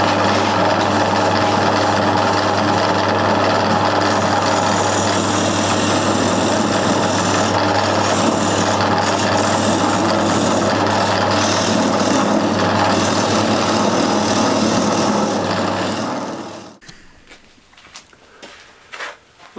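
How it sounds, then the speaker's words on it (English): A wood lathe spins a turned bowl while a chisel smooths the recess, giving a steady, loud motor hum with scraping texture that runs continuously before cutting off abruptly near the end. "picking up a slightly different chisel now, just to make the recess a bit smoother"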